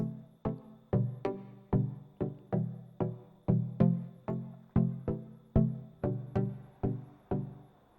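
Quiet synth chords are strummed in a steady rhythm, each a quick plucky attack that rings and decays before the next, with no voices.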